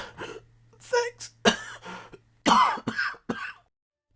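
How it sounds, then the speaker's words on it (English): A man in an audio drama coughs up blood, giving a few harsh, wet throat-clearing coughs and strained gasps in short bursts, close to the microphone with little else around. "Ash coughs up some blood before managing a weak smile."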